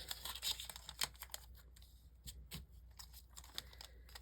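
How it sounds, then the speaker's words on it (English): A long strip of painter's tape is pulled and torn from the roll at a craft table, making faint, close crackling tears and stretching sounds in short bursts with no speech. "We are going to take a piece of painter's tape, pretty long piece of painter's tape"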